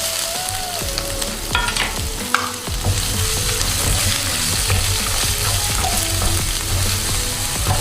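Chopped onions fry in hot oil alongside curry leaves, garlic and ginger for rava kichadi, giving a loud, constant sizzle broken by the scrape and clatter of stirring in the pan.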